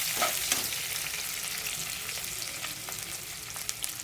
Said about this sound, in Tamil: வெங்காயம் சேர்த்து கொஞ்சம் வதக்கிக்குங்க